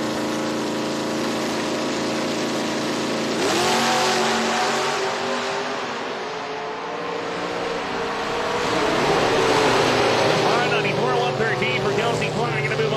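Drag-racing Mustang and IROC Z cars rev and accelerate hard, a loud continuous engine roar that swells twice as they launch, with an announcer talking over it.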